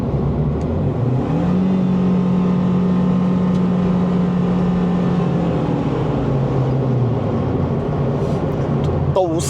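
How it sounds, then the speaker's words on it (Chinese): Under hard throttle, a car with a CVT and a Max Racing S Flow exhaust muffler rises into a sustained droning engine tone that holds, then eases back down, the engine and transmission whine louder than the muffled exhaust. "我再踩深的油门给你们听一下。"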